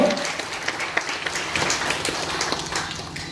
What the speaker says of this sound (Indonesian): Boleh tepuk tangan buat Amang Boris Gorok